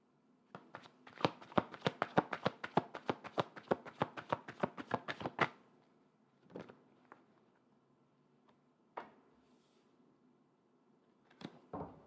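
Tarot cards being shuffled: a fast run of crisp riffling snaps for about five seconds, then a few isolated soft taps and card placements in a quiet room, with no voices.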